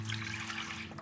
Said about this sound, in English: Let's pour in 2 quarts of stock for 1 bag